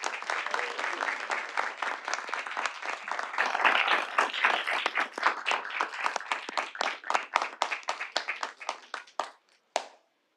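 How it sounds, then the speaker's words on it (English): A room of people at a city board meeting claps for a high school band, starting as full applause and thinning to scattered individual claps before a final few taps. "Let's give them all a round of applause."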